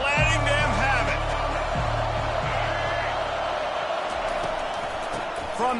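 A football stadium crowd jeers and roars steadily at a team pinned deep after a kick return, a loud dense wash of voices filling the whole stretch, with a commentator's voice over it.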